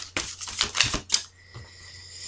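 Tarot cards being shuffled and set down, a quick burst of crisp riffling snaps and slaps up close, then a quiet pause with faint room noise.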